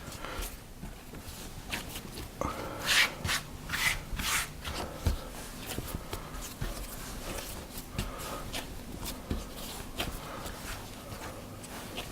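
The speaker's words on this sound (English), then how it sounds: "Don't have to knead it for very long." Croissant dough being kneaded into a ball by hand, producing soft rubbing and pressing sounds with occasional thumps and scrapes in an uneven rhythm, quiet and close with no talk.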